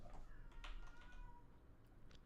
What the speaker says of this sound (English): I can hear my cat meowing in the background